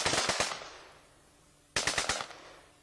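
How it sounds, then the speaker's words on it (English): Guns fired from the hip let off two quick bursts of rapid shots, each burst a cluster of sharp cracks, with a short fading gap between them and no voices. "They're not even like shooting them in the head, they're just like shooting from the fucking hip."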